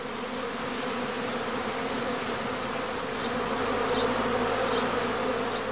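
Loud, even humming of honeybees swarming out of a skep into a gauze swarm-catching bag, a thick continuous drone with a few faint higher buzzes of individual bees passing close.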